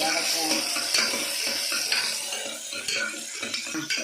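Tomatoes being stirred and sautéed in a pan for mutton gravy, with steady scraping and clinking of a utensil against metal over a soft sizzle, close and continuous.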